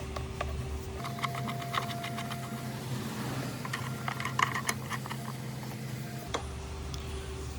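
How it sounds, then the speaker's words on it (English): Nuts are tightened on the battery bracket of a Mazda3, giving faint irregular metallic clicks and ratchet-like ticks against a steady low hum. "Tighten those nuts down until they're snug."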